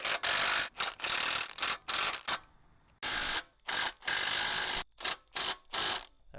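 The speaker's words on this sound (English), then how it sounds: "we're just going to use an impact here, speed it up, just to snug them" An impact wrench snugging the bolt nuts on a Split-Fire log splitter's slide pads during a repair, firing in loud, close bursts of rapid hammering rattles separated by brief pauses, about nine bursts in all.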